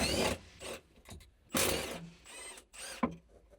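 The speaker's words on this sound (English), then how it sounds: "Use a 13mm deep socket with the impact wrench to remove the strut mount nuts from the top" An impact wrench with a 13mm deep socket zips off the top strut mount nuts of a 1999-2007 BMW 325ci E46 from inside the trunk, in several short, loud, rattling bursts with brief pauses between them.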